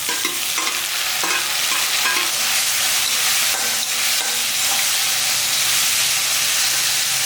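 Tomatoes frying with browned onions in a pan while cooking goat head curry, a loud, continuous sizzle with stirring scrapes throughout and no talking.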